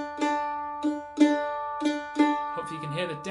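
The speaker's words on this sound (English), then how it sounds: "Hopefully you can hear the downs are ever so slightly longer than the ups." Mandolin picking a short phrase in a hornpipe feel, the downstrokes held slightly longer than the upstrokes, giving a lilting uneven rhythm of repeated plucked notes, close and clear, with a brief busier run at the end.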